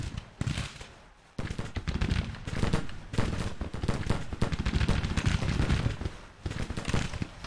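Civil War field cannons in the Grand Tactician video game fire in dense overlapping volleys, producing continuous booming and crackling battle noise that is loud and sustained with only brief dips.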